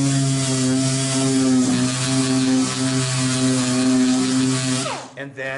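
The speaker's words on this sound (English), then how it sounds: "I still keep the sander flat to do this" A power sander hums loudly and steadily, held flat against a wooden mini chest, with a constant buzzing drone that winds down near the end.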